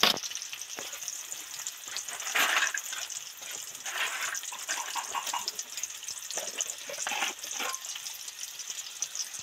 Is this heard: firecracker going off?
no